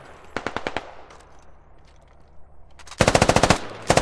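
Close AK rifle gunfire in the military shooter game Squad: two loud rapid bursts of automatic fire, a short burst early and a longer, heavier burst near the end, separated by a quiet stretch, with no talk.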